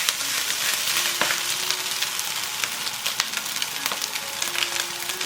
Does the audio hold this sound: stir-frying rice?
yes